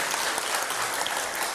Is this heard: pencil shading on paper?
no